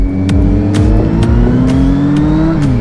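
A motorcycle engine revs loudly and close at the entrance to a race circuit, its pitch climbing and dropping in repeated throttle blips over a steady rumble.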